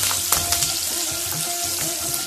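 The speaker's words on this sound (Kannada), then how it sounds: "ಈಗ ಇದರಲ್ಲಿ ಒಂದು 2 ಮೀಡಿಯಂ ಸೈಜ್ನ ಈರುಳ್ಳಿ ಕಟ್ ಮಾಡಿರ್ತಕ್ಕಂಥದ್ದು ಹಾಕೊಳ್ತೇನೆ" Chopped medium onions, added to a pan with green chilli and curry leaves for an Andhra-style brinjal curry, fry with a loud steady hiss and a few soft knocks, close up and without talk.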